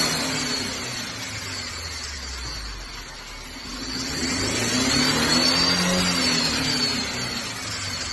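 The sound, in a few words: 2013 Mercedes-Benz C250 engine revving with misfire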